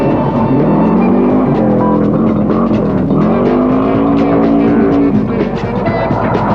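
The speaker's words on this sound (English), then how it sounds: "The next car, Mulligan, in another Subaru." A Subaru rally car in the 1985 NSW State Rally Series races along a stage, its engine droning loud and close as the revs rise and fall through gear changes with no pauses.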